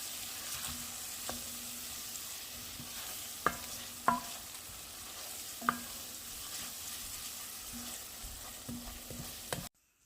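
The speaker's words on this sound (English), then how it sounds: "Saute the onions and garlic on the stove top till they're just translucent, and add the paprika to release the flavors" Onions and garlic sautéing with paprika on a stovetop, a soft steady sizzle with a few sharp utensil clicks and scrapes scattered throughout, no voices.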